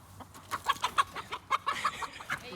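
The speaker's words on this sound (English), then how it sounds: "Oh, the chicken got out. Chicken's out." A loose chicken clucks in a quick run of sharp, close calls in an irregular rhythm, loud against a quiet background with no talking.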